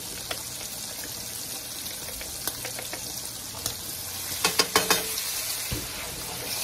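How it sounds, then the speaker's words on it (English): Garlic frying in a pan for chicken and shrimp carbonara, a steady close sizzle throughout with a few brief clinks of stirring near the end. "now what we want to do is add a tablespoon of garlic"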